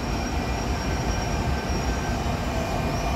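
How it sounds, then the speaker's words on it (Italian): A regional train bound for Cosenza pulls away from a platform at Salerno station, a loud, steady rolling rumble of wheels and carriages with a faint high whine running through it. "Regional Train 2, Cosenza, with scheduled departure at 8:01 p.m., is now departing from Platform 4."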